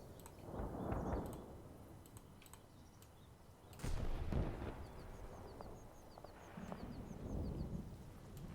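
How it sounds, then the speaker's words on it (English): Sharp gunshot-like cracks from a sniper firing on a vehicle in the Combat Mission Black Sea war game, two heavy reports a few seconds apart amid faint ticking and quiet background, with no talk. "Yep, he's firing on that vehicle."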